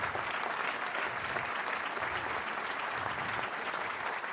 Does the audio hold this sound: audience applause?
yes